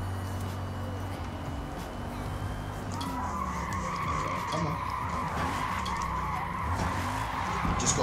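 Rear-wheel-drive Bugatti Veyron drift build of 1,183 hp sliding in Forza Motorsport, with a steady engine roar and rising tire squeal running continuously at close range.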